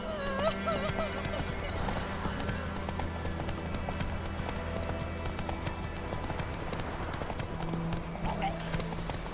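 Horse hooves clip-clopping at a fast, steady gallop in The Witcher 3, close and continuous over a game soundscape, with a brief whinny and a voice urging the horse on.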